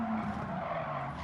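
A people carrier in the Gran Turismo 7 racing game skids under hard braking, its tires squealing loudly in a sustained screech with engine noise.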